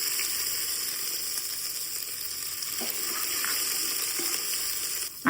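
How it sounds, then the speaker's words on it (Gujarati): Peanuts frying slowly over low heat in a pan as ginger and green chilies are added, giving a continuous close sizzle with a few soft stirring scrapes and a clatter at the very end. "સિંગદાણાનો કલર બદલાઈ ગયો છે, તો હવે આપણે અંદર આદુ મરચી નાખી દેવાની છે"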